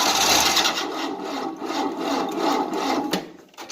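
The engine of a 1988 Tennant 255 Series II sweeper cranks without catching after a fuel line replacement, producing a close, steady, rhythmic grinding chug that repeats evenly before tapering off near the end.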